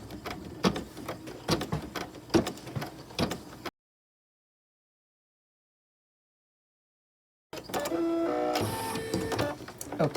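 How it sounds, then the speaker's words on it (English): Embroidery machine stitching a small circle in an in-the-hoop Halloween design, a busy mechanical whir with rapid needle clatter, running loud and steady, briefly cut off, then resuming close up with no talk. "now it's going to stitch that little circle"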